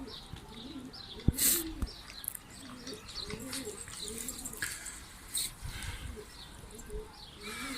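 Domestic pigeons coo in repeated soft, rolling calls at close range, fairly quiet overall, with scattered chirps and a few sharp knocks in between.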